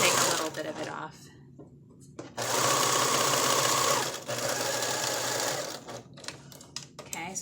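Sewing machine stitching flower girl dress fabric, lacy pieces with right sides together, running in a couple of bursts with short pauses between, close and fairly loud.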